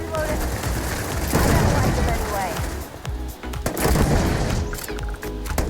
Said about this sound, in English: because it is dealing out 2 shots at a time